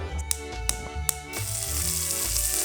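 Lard hits a hot, well-used Le Creuset pot for a Neapolitan ragù, giving a few sharp taps and clinks before a steady, close sizzle of frying fat takes over.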